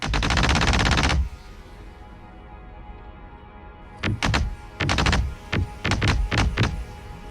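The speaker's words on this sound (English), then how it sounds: "Shoot the planet." Ship guns in Star Citizen fire at a planet: a sustained loud burst at first, then after a quiet gap several sharp repeated volleys of thumping shots.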